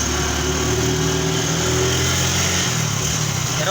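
A Bajaj CT125 motorcycle engine running after an overhaul, a steady, buzzing idle with a fast, even putter that holds close and loud throughout with no talking.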